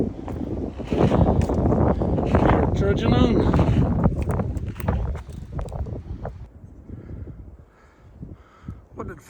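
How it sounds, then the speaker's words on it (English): Strong wind gusts batter the microphone on a walk, in heavy, roaring buffets that ease off after several seconds. A voice speaks briefly over the noise. "It's very windy today."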